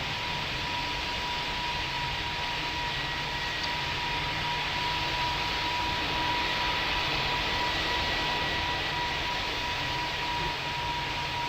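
Steady airplane jet engine roar in the Roblox flight game Pilot Training Flight Simulator, a continuous broadband whine with a thin sustained tone, unbroken and fairly loud throughout.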